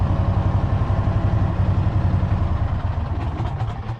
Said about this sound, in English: I forgot I had the Gator down here running